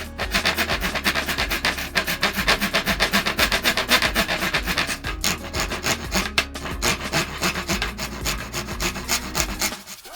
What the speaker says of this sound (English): It's time to bring the hand tools, files and rasps.